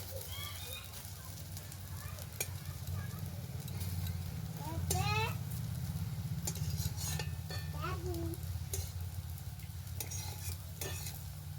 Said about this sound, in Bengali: আবারও আমি কড়াইতে দিয়ে সবগুলো ভেজে নেব।